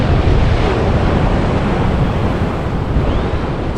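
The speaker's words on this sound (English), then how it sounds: "That's a really good waves there now." Ocean surf at a rock pool on the south coast at Shellharbour makes a loud, continuous roar of breaking waves with some wind buffeting the microphone.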